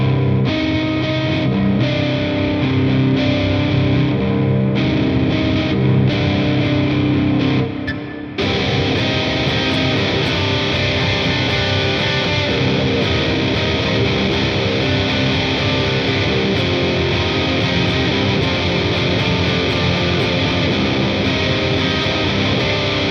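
A heavily distorted electric guitar plays the outro riff of a metal song, loud and sustained with ringing chords, a brief dip near the middle before the dense wall of sound returns and carries on to the end.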